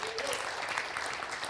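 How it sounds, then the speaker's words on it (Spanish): Church congregation at a Sunday service applauding, a steady, fairly faint wash of clapping heard from a distance with no clear gaps. "Vamos a dar un aplauso al Señor, claro que sí."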